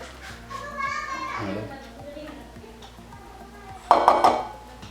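A whisk clinks and scrapes against a bowl while oil, eggs and powdered sugar are mixed for a sponge cake batter. The bursts of tapping end in a sharp clatter, with voices and children talking nearby.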